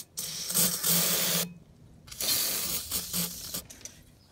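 Old gas pump mechanism being worked after lubrication with penetrating oil, two bursts of grinding, ratcheting mechanical whirring separated by a short pause, close and fairly loud.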